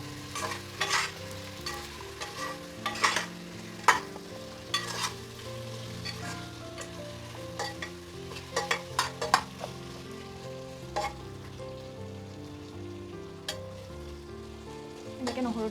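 Mutton with a whole garlic bulb fries in a pan, a dense crackling sizzle continuing under repeated stirring scrapes and clatters, close and steady.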